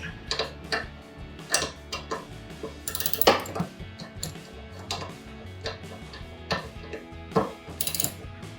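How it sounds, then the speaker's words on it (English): A ratchet wrench with a 10 mm socket snugs down a bolt on a 2015-2017 V6 Dodge Challenger, giving a string of light, quick clicks in short irregular bursts, close by and fairly quiet. "I'm going to tighten the 10 millimeters again now that it's mounted. Again, I'm going to take my 10 millimeter socket,"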